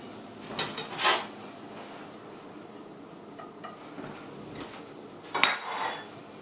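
Spam fried rice being plated, with dishes and cutlery clinking in a few short, scattered bursts, loudest near the start and again near the end, fairly quiet with no talking.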